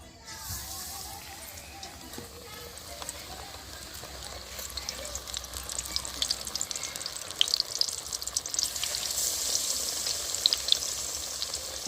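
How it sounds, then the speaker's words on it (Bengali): Eggplant slices (beguni) frying in white oil, a soft sizzle that builds and brightens into crackling, spitting bursts as it goes on, fairly faint and steady. "এবার আমি বেগুনটা ভেজে নিচ্ছি।"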